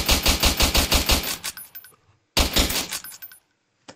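Rapid automatic gunfire from a gun in the video game Roblox, a fast burst of about ten shots, then a short pause and a second shorter burst, loud and close with no talking.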